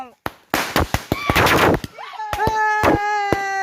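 Firecrackers burst in a quick series of sharp, loud pops close by, mixed with children's excited voices and calls between the bangs.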